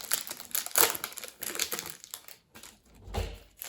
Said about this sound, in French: c'est un booster impossible à ouvrir. C'est impossible, j'ai été obligé de l'ouvrir par le bas.